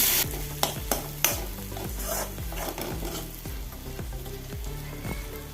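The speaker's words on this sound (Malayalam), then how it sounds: "നല്ലപോലെ ഒന്ന് ഇളക്കി കൊടുക്കുക" Rhythmic scraping strokes of a spoon stirring onions and tomato as they sizzle in a pan for a lotus seed masala fry, close and steady with repeated clanks against the pan.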